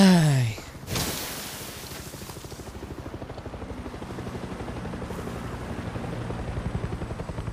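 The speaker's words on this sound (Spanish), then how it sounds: "El helicóptero también" A helicopter in the video game Far Cry 6 thrums with a fast rhythmic rotor chop that grows steadily louder, following a brief sharp sweep and burst at the start.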